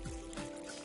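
Water trickles and pours steadily into a pan over pork with thyme, garlic, bay leaves and onion being readied for smoking, close up and continuous, with no talking.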